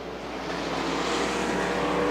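A street stock race car roars past at Butler Motor Speedway, a loud engine drone that builds steadily and stays strong throughout, with no talking.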